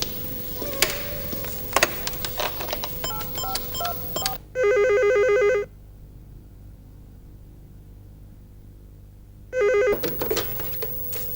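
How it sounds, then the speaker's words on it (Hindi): A telephone rings in two bursts of electronic trilling with a long pause between, preceded by faint clicks and handling noises; no one speaks. "मैं अभी फोन करता हूँ शर्जील को।"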